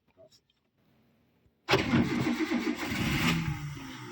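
After a quiet pause, a car engine cranks and catches abruptly, then settles into a steady idle during a driving lesson, sounding close and fairly loud, with brief talk beforehand.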